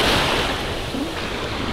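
Sea waves wash onto a beach in a continuous broad rush with wind noise on the microphone, close and fairly loud, and no voices.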